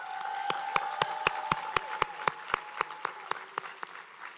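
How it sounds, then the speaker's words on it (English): Audience at a Goodwill graduation ceremony held at the Georgia Aquarium claps in a steady, evenly spaced rhythm for several seconds, with a faint tonal hum sustained underneath. "Let's give them a well-deserved round of applause"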